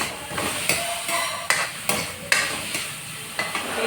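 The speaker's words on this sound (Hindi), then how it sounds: "तो इस तरह से इसको चलाते रहेंगे।" Bottle gourd halwa is stirred in a pan, giving a soft steady sizzle broken by sharp spoon scrapes and clinks against the metal roughly every half second to second.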